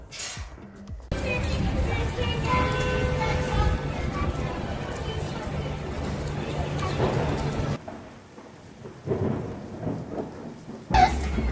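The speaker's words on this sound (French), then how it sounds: "La pluie à Boston." Heavy rain pours in Boston while thunder rumbles loudly through it, the downpour constant and close before dropping away near the end, with a voice speaking over part of it.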